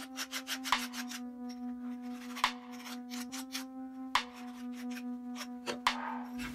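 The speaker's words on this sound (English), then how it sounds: "Then I remove the burrs with a file" Hand file rasping burrs off an aluminium ladder part, worked with a gloved hand in quick uneven strokes of scraping bursts over a steady low hum, close by with no talking.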